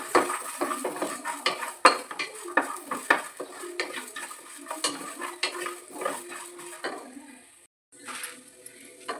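Five garlic cloves fry in a pan for an egg curry, stirred briskly. Close clattering utensil strikes and scrapes against the metal pan repeat rapidly over a faint sizzle, with a brief pause near the end.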